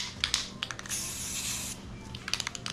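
Rust-Oleum spray paint, black and midnight blue, hisses out in a sustained close burst after a few rattling clicks of the can, with more short clicks following.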